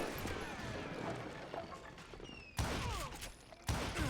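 Western-style gunfire in the video game Call of Juarez: Gunslinger sounds as a dense volley of shots and crashes, with two sharp louder bursts near the end.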